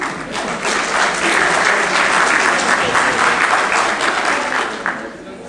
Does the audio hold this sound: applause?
yes